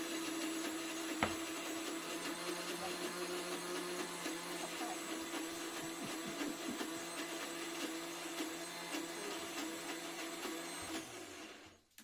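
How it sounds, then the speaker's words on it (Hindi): A mixer grinder whirs steadily as it grinds lentils, a loud, continuous motor drone with a rattling texture that runs unbroken for about eleven seconds before cutting off abruptly. "फिर मुझे आया ध्यान और मैंने मिक्सी लगा दी"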